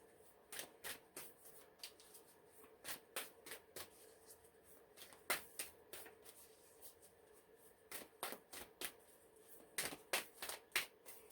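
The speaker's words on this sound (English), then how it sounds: "I have no clue why I'm still shuffling from this deck" Tarot cards are shuffled in a steady run of crisp, papery riffles and taps, close and fairly quiet, repeating in irregular bursts with no talking.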